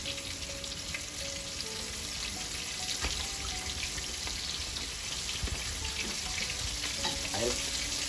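Shrimp fry in a hot pan for a seafood po'boy, giving a constant close sizzle with faint scraping and stirring sounds throughout and no voices.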